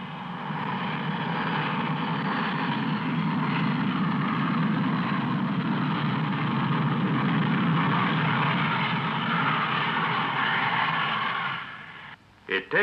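Four Rolls-Royce Avon jet engines of a de Havilland Comet airliner taxiing, a loud, steady broadband roar and whine held close and continuous, cutting off near the end.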